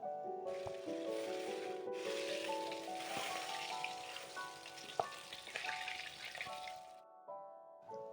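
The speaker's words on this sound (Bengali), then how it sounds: "এবার ঠিক একইভাবে বাকি মাছগুলোকেও আমরা ভেজে নেব।" Fish pieces frying in hot oil, a steady loud sizzle and crackle that runs for most of the clip with a few sharp pops, then drops away near the end.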